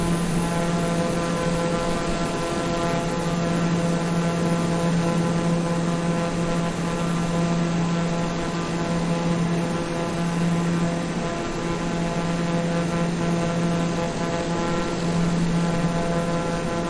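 Propeller airplane engine droning steadily in flight on a trip from San Francisco toward Medford, Oregon, a loud continuous cabin hum with a strong low tone and no breaks.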